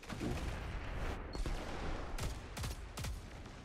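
Pulse rifle gunfire in the video game Destiny 2, a dense sustained wash of shooting with several sharp distinct burst impacts toward the end, fairly loud with no talking over it.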